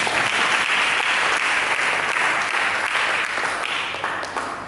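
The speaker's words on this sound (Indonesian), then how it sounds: "Mari kita berikan tepuk tangan." A church congregation applauds during a sermon, dense, steady clapping from many hands that holds for several seconds and fades slightly at the end, with no talk over it.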